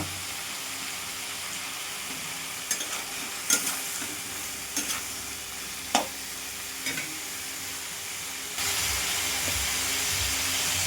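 Ash gourd and tomato stir-fry in hot oil for a shrimp curry, a steady close sizzle broken by several sharp scrapes and knocks of the spatula, then a louder, fuller hiss near the end.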